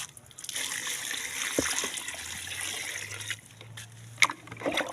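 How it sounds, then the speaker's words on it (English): Water is poured into fermented compost made from farm wastes to make liquid organic fertilizer: soft splashing and trickling with a few sloshes, fairly faint and close, with no talk. "So I'll now add my water"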